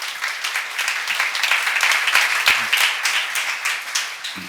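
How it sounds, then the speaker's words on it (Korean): Church congregation applauding during a Korean Bible seminar on Ephesians, a dense, steady wash of many hands clapping for several seconds, fairly loud, with no one talking over it. "오늘 본 사람만 박수 하세요"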